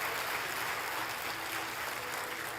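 A church congregation applauds during a worship service, a steady, dense wash of many hands clapping together at moderate distance without a break.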